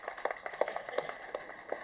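Sparse, scattered applause from an audience at a film audio launch event, a handful of claps landing irregularly at a moderate distance with no talk over them.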